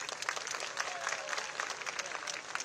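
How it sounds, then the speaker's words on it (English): Steady, dense applause from a large audience at a Pravasi Bharatiya Divas cultural event honouring Odisha dignitaries, continuous and fairly even throughout without pauses. "Can we have a big round of applause for them?"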